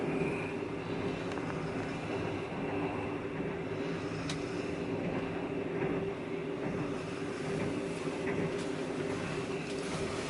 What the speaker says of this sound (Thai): ก็นอนฟังเสียงรถไฟครับ